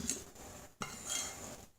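A spoon clinks and scrapes against a bowl while blended oat waffle batter is mixed, two short bursts of close stirring with metallic chinks and no talking.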